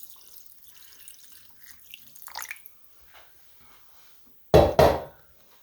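Two quarts of water poured into a pot of red beans in a home kitchen, with a faint trickle early on and then a short, loud splashing pour near the end.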